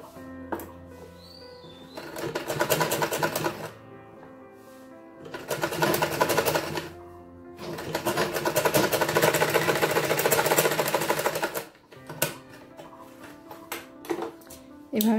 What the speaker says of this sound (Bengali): এরকমভাবে ভাঁজ করে আমি এটা সেলাই করব